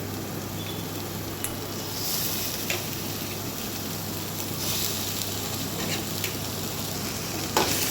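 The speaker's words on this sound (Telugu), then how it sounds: "టేస్ట్కి తగ్గట్టు సాల్ట్ వేసుకొని బాగా ఫ్రై చేసుకోవాలి" Chopped tomato fries with browned onions and mustard seeds in an oiled pan, a steady dense sizzle with faint occasional ticks and stirring taps, no voices.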